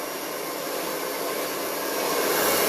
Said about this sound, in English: So you can tell my blow dryer is away from the hair.